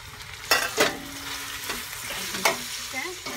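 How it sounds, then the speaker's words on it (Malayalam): Onions sizzle in hot oil in a pot, a soft steady frying hiss broken by a few sharp stirring scrapes and clinks, close and fairly quiet with no talking. "എടുത്ത് വെച്ച ബാക്കി ഉള്ളി ഉണ്ടല്ലോ അത് നമ്മൾ ഇടുകയാണ്."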